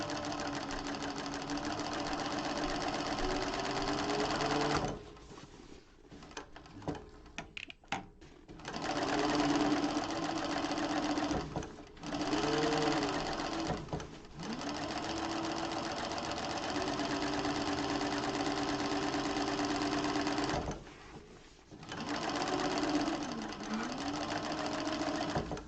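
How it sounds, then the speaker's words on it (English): A sewing machine runs a second row of stitching along a zipper bag seam, 1/8 inch into the seam allowance, in steady continuous bursts with brief pauses between runs, close and clear. "I'm going to go in again with my second row, 1/8 of an inch away from that, into the seam allowance, just to help strengthen my seams"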